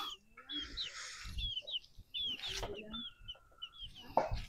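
Chicks peep and cluck softly nearby in short, scattered calls, with some rustling and a quiet background, on a farm.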